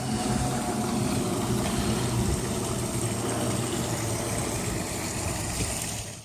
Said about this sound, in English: Here's our lovely pool, our lovely waterfall.